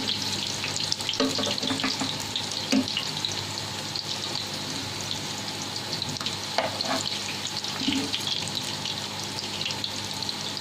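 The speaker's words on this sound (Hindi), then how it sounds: "इसी तरह से ये सारे हमने फ्राई कर लेनी है हमारी" Bread and vegetable kebabs fry in a pan with a steady, close sizzle and crackle, joined now and then by faint soft knocks and clinks; no one speaks.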